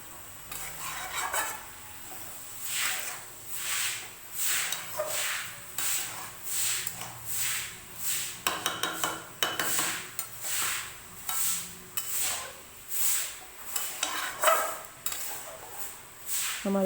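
A spoon stirs mustard greens with chicken and spices in a pan for a Nepali-style rai saag, giving a steady run of about a dozen rhythmic scraping strokes, close and fairly quiet, with no talk.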